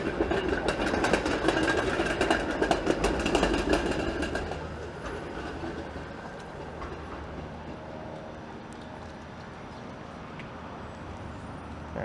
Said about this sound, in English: There's a westbound 504 King streetcar